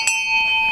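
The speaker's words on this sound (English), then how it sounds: "and there goes the bell" A bell rings a clear sustained tone at the end of a polo chukker at a Newport, New England match, loud and steady across the moment with faint outdoor background beneath it.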